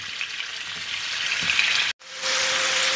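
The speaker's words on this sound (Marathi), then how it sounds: "तेल गरम झाले, तेलावरती आपण आता हे पनीर ठेवूया" Paneer pieces laid into hot oil in a pan, giving a continuous bright sizzle that cuts out for a split second and then returns louder and steadier, with a sharp frying crackle close by.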